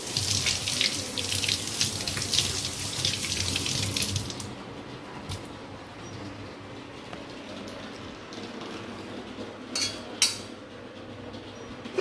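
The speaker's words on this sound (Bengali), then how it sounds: "এই হাতাটা ধুয়ে দিই।" Tap water runs loudly over a ladle being washed at a kitchen sink for about four seconds, then cuts off, leaving quiet room sound with a few faint clinks near the end.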